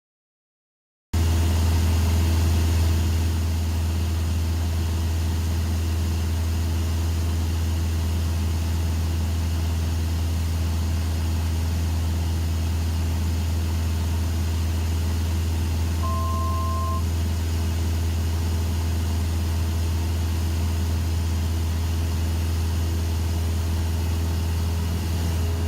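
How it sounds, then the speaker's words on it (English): Aircraft engine drone heard from inside during flight through cloud: a loud, steady, close hum with a strong low rumble that runs unbroken throughout, plus one short electronic beep partway through. "you're going to hear the engine pitch change again as this aircraft does penetrate another cloud"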